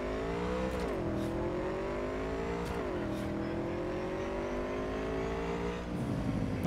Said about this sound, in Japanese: 変な音すんな、バイク。 キュンキュンキュンキュンキュンキュンって。